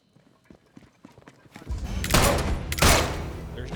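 Bursts of gunfire in a video game break out after a quiet stretch, loud and dense volleys filling the second half, with a voice talking faintly early on.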